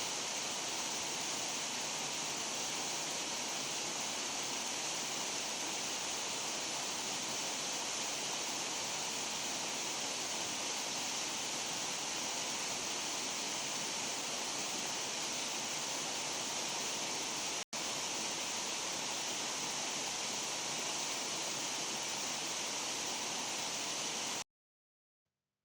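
Lekgalameetse waterfall in a nature reserve pours in a steady, unbroken roar of rushing water, broadband and even, heard at moderate distance with a brief dropout near the end.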